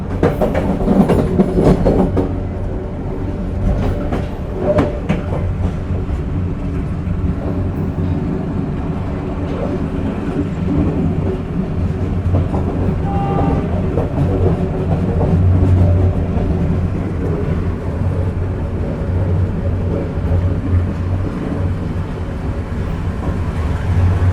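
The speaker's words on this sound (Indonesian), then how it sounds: "kereta api Joglo Semarang-Kerto telah tiba di stasiun Gundi" Joglo Semarang-Kerto passenger train pulling into Gundi station at night, a loud, steady rumble of wheels and engine with faint rail clatter that stays close and sustained throughout.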